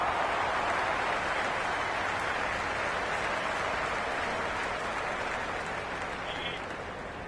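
Stadium crowd applauding and cheering at a T20 cricket match between England and Australia in the PS5 game Cricket 26, a dense, steady wash of clapping and crowd roar that eases slightly toward the end.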